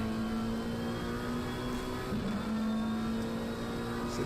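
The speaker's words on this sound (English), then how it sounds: "This is Fly in the McLaren. You can hear a very different engine note." McLaren race car engine in a PS5 racing game at Bathurst, a steady sustained drone with a held tone and slight pitch wavering, constant and fairly loud with no voices.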